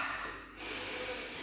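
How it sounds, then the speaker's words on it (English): A deep inhaled breath taken during a yoga-style stretching routine, audible as a soft breathy rush that swells midway and holds steady, close to the microphone with no talk over it. "Take a deep breath here."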